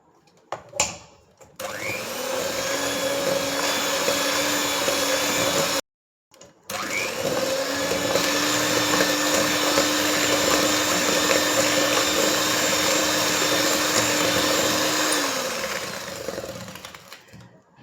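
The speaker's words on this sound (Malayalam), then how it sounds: "ബട്ടറും പഞ്ചസാരയും കൂടെ നന്നായി ബീറ്റ് ചെയ്തിട്ടുണ്ട്." An electric mixer beats butter and sugar for an orange cardamom cake, its motor giving a loud, steady whir that stops briefly and then runs on continuously before winding down.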